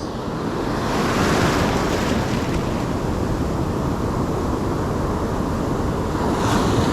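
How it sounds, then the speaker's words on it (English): Ocean waves crashing onto a flat San Diego beach, a loud continuous roar of surf with wind noise buffeting the microphone, swelling slightly as breakers roll in. "a whole lot of waves crashing over it"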